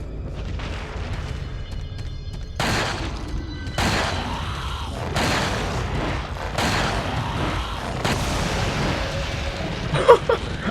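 Heavy magnum gunshots from Resident Evil 4 fire in a series of five or six booming blasts spaced about a second or more apart, capped by a sharper barrel explosion near the end, with game noise underneath.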